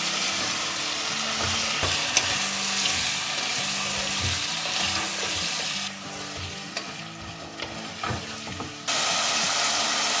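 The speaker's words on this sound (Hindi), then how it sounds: "अब इनको भून लें" Sliced carrots and potatoes fry in a pan with a constant crackling sizzle and repeated scraping, bumping stirs close by, the hiss dipping and then swelling again toward the end.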